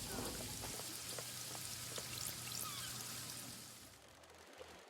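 Rain falls in the video game Paradise Killer, a soft, steady hiss of drops with faint patters, quiet and continuous before fading out near the end.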